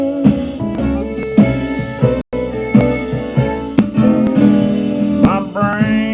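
Country fiddle lick with bowed, sliding melodic lines played close and loud, steady phrasing with a brief break partway through, with no voices present.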